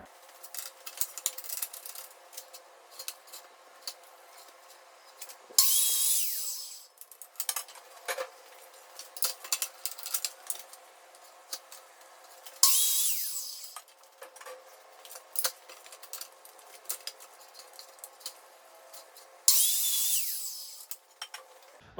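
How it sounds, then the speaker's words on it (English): A power saw cutting 88-inch wooden boards for a raised garden bed frame, three long whining cuts at regular intervals, with clattering and handling noises between them, fairly close. "I'll cut my lengthwise pieces of the frame as calculated"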